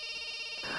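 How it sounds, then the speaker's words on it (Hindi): A telephone rings with a steady electronic ringtone in an indoor scene, heard briefly and alone at moderate volume. "अरे बार बार फोन बज रहा है, उठाते क्यों नहीं हो?"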